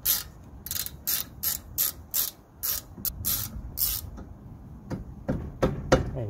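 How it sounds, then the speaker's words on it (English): A 12 mm hand ratchet tightening the rear brake caliper bolt on a Honda Jazz, about a dozen rapid, loud clicking bursts in quick succession that slow and fade near the end, with no talk. "We're using a 12 mil ratchet."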